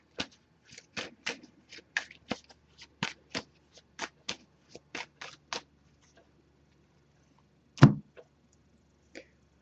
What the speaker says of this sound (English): I'm going to give this a few shuffles.